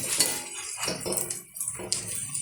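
A spatula scrapes and clinks against a pan while a shallow-fried veggie cheese roll is flipped. Sharp metallic taps and scrapes come in short, irregular bursts, close and moderately loud, with brief pauses between them.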